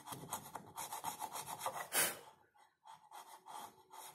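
Steel chisel paring and scraping the wood of a dried-out, cracked hand plane block, giving rough rubbing and rasping strokes in close, uneven bursts with a short pause near the end.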